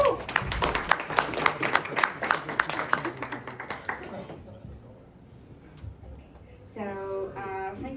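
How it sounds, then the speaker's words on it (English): Audience at a startup pitch session breaks into a round of applause and cheering, dense clapping that tapers off after about four seconds, followed by a voice speaking near the end. "Guys, do you want to have a round of applause?"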